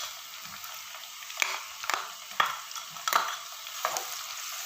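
Steady sizzling of ginger garlic paste frying in a pan, with several sharp clinks and scrapes of a spoon stirring at irregular intervals, close up.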